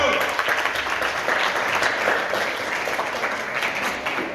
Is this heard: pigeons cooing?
no